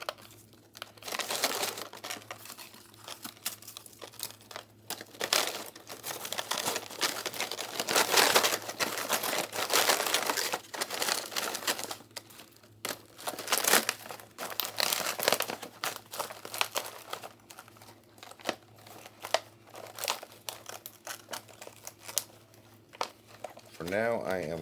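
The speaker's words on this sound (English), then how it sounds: "I'm just going to kind of break them up as I put them in the bag." Freeze-dried cinnamon milk toast being broken up by hand into a plastic bag, with continuous close crunching, crumbling and crinkling of plastic over about twenty-five seconds that builds and fades in bursts.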